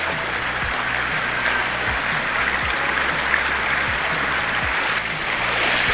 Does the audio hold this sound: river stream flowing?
yes